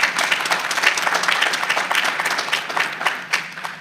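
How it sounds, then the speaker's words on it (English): An audience applauds Hanad Duale, who led the initiative, at an evening community event: dense, continuous clapping from a crowd, loud and close, with no talking. "Say one clap for him."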